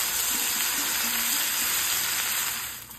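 Bay leaves, cardamom, cinnamon and cloves sizzle in hot oil in a pan, a steady close hiss with light crackles that fades slightly at the end.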